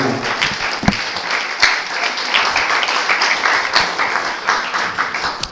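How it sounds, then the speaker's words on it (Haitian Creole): A church congregation applauding, dense steady clapping from many hands filling the room throughout, with a few sharper claps standing out. "Nous allons applaudir celle-ci."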